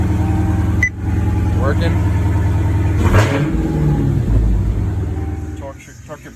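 A Dodge Charger Hellcat engine cranks and fires up, settling into a deep, loud idle with a couple of rev swells before fading, while someone talks over it nearby.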